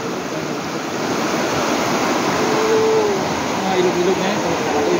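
River water flowing steadily at a swimming spot where children bathe, a continuous broadband rush heard close by with faint voices and soft tonal sounds over it.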